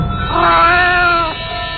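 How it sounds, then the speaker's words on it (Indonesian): A white cat meows once, a long loud drawn-out cry heard close and alone. "Kucing berwarna putih itu melihatku terus sambil terus mengeong."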